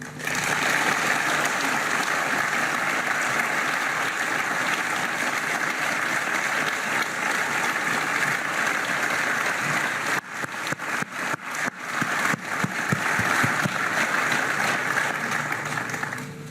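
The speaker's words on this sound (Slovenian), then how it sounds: "predlagam, da to pogumno ekipo na začetku nagradimo z enim aplavzom" Sustained applause from a large audience at a closing political rally in Celje, loud and dense throughout, thinning into scattered claps near the end.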